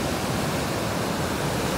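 Ocean waves break on Rosarito beach in a dense, continuous rush of surf that stays loud and even throughout, with no talking.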